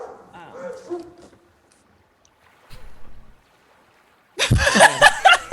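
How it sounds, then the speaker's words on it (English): Hellhounds in the Shadowfell of the Neverwinter video game: aggressive barking and snarling from several dogs, breaking in loudly near the end after quieter growls and game sounds. "the dogs in the Shadowfell sound aggressive"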